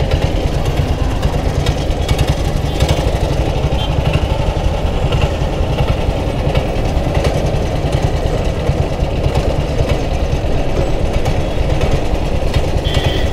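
A 1947 BSA BB31 vintage British motorcycle engine running steadily and loudly up close, a continuous throbbing mechanical drone with no pauses.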